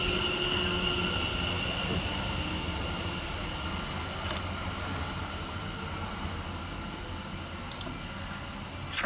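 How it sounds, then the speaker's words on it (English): London Overground class 710 electric units 710 101 and 710 119 departing a station, a steady distant rail rumble and hiss with faint squeals, no voices. "Next up to depart from the station is 710 101 and 710 119, working the 1400 London Overground service"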